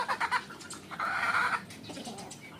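Chickens cluck close by, including a white brood hen with newly hatched chicks, short choppy clucks followed by a longer drawn-out call, with soft chick peeps and no talking.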